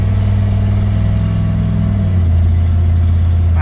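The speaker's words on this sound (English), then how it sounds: "Listen to the transmission shift gears." A 1969 Dodge D100 pickup engine runs steadily and loud, its low drone dropping in pitch around two seconds in as the transmission shifts to another gear, with no talking.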